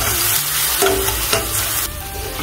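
Ginger and garlic hit hot oil along with whole cumin, bursting into a loud close crackling sizzle that settles into a steadier hiss after a couple of seconds.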